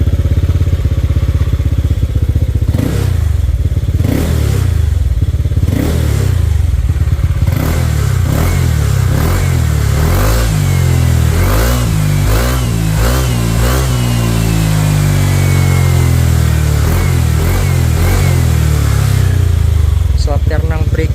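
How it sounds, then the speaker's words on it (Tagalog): A Honda Click 125 scooter, bored to 160cc, is revved repeatedly during a sound check, its engine rising and falling in a series of close, loud throttle blips over a steady idle, with someone talking throughout. "sound check ulit natin yung motor natin mga kalpa"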